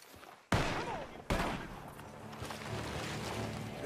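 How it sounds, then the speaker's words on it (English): Gunfire in Red Dead Redemption 2 rings out from a barn, with two sharp loud reports at about half a second and one and a quarter seconds, then a sustained noisy, crackling din. "Gunshots are coming from that barn!"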